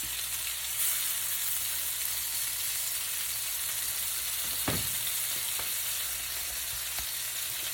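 Stuffed, coated meatballs crowded into a pan fry with a steady, even sizzle, broken by a few soft knocks around the middle, with no talking.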